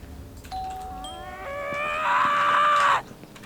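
A doorbell rings with a buzzing electronic tone that steps up in pitch and holds for about two and a half seconds, fairly close.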